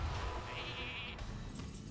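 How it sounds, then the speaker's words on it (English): A single sheep in the video game Hearthstone lets out one quavering bleat, fairly faint and alone over a dim low background rumble. "he is starting to summon his sheep"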